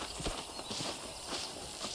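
Horse hooves clip-clop in the Western video game Red Dead Redemption, a faint, steady walking rhythm of hoofbeats continuing throughout.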